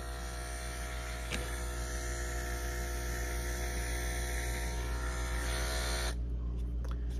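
An Andis reVITE hair clipper runs close up with a steady, humming electric buzz that holds evenly for several seconds before a faint click near the end.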